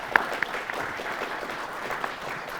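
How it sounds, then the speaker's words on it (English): An audience applauds the Stockton Blackhawks team before a Forreston vs. Stockton contest. Moderate, steady clapping runs throughout, with a few sharper individual claps standing out near the start. "how about some applause for the Stockton Blackhawks?"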